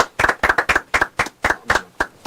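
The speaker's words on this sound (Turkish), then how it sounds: "Alkışlarınızla" A studio audience claps in a rhythmic unison beat on a live Turkish entertainment show, about ten crisp, loud claps in a steady tempo with no talk over them.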